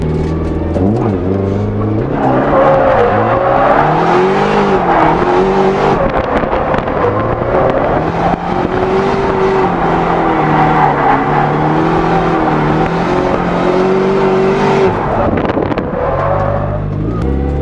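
Nissan 240SX drift car with an SR20 engine revving hard and driving, a loud, sustained engine note rising and falling through the gears, with wind buffeting the microphone throughout.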